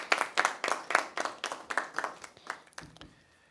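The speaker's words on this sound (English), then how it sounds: "I think we should all give them, a round of applause for their work." A small press-conference audience gives a short round of applause, a handful of distinct, fairly close claps in a steady rhythm that thin out and fade within a few seconds.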